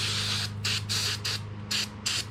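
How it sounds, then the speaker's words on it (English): Carburetor cleaner sprayed from an aerosol can into the fuel passages of a push mower carburetor, six sharp hissing bursts in quick succession over a low steady hum, close and loud. "And so you just want to spray in there."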